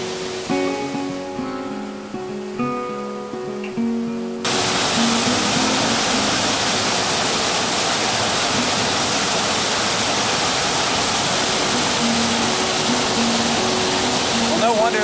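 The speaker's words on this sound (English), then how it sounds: "Check out that waterfall." A waterfall on a backcountry Pennsylvania stream roars loudly and continuously after a few seconds of musical intro, a dense, unbroken rush of falling water close by.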